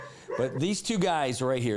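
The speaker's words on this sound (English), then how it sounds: "hear the dog barking." A dog barks and yips in home security camera footage, the sharp bursts mixed in with someone talking over it throughout.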